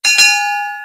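A bright notification bell chimes once, striking sharply and then ringing out with a clear, sustained metallic tone that slowly fades.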